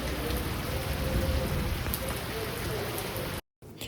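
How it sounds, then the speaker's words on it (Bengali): Heavy rain falls steadily outside a hill lodge, a dense and even hiss that holds at moderate level before cutting out briefly near the end. "খুব জোরে বৃষ্টি পড়ছে।"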